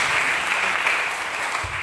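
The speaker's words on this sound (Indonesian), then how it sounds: "Beri tepuk tangan yang terbaik buat Tuhan Yesus Kristus." A church congregation applauding at a Christmas revival service, a dense steady wash of many hands clapping that holds evenly for the whole stretch with no pause.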